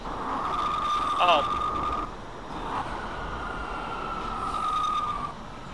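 An R179 subway train on the A line runs in the OpenBVE train simulator game, rumbling steadily with a sustained tonal whine and brief wheel squeals, while a person talks over it.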